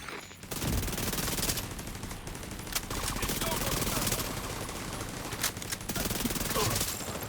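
Video game gunfire with rapid bursts of automatic fire and sharp individual shots, loud and nearly continuous over the game's background sound.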